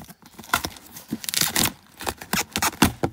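Cardboard is pulled and torn open in several short ripping bursts, with crinkling between them, recorded close by.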